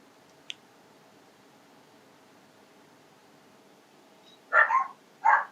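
Puppies bark in two quick bursts near the end of an otherwise quiet stretch, sharp yips fairly close, after a faint click early on.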